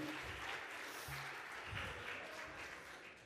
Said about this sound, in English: He should have a round of applause, that guy.